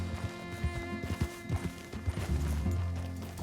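Horse hooves in Red Dead Redemption 2 clop in an uneven trotting rhythm, close and moderately loud over a low background rumble.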